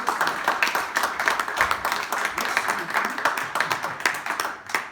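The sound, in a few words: audience applauding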